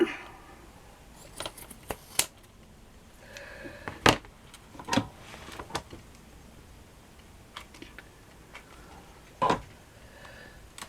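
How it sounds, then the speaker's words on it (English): Scissors snipping through craft material for a handmade flower and wall plaque, a scattering of short, crisp cuts at close range with quiet pauses between them. "Let me just cut where I need it to be."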